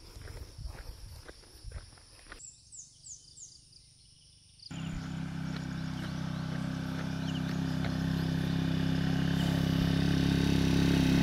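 Footsteps crunch along a path before a motorcycle engine starts up and runs with a steady low rumble that grows gradually louder and nearer over several seconds.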